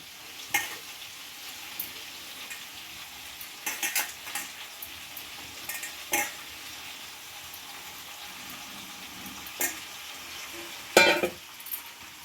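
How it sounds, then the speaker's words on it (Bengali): Lotte fish frying in a pan with salt and Kashmiri red chili: a soft, steady sizzle runs throughout, with scattered clinks and scrapes of a utensil against the pan. "পরিমাণ মতন লবণ আর কাশ্মীরি রেড চিলি এবারে দিয়ে দেবো মাছগুলো"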